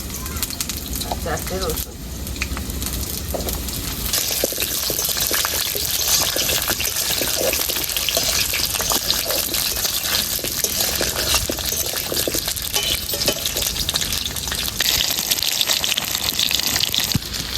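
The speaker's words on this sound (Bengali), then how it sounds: "এবার আলুর সঙ্গে আমি গোটা পেঁয়াজ আর গোটা রসুন ভেজে নেব" Whole potatoes, small whole onions and garlic cloves frying in hot oil for a Bengali mutton curry, a steady loud sizzle and bubbling that builds and carries throughout, with someone talking over it at the start.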